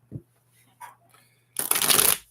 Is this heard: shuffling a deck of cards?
yes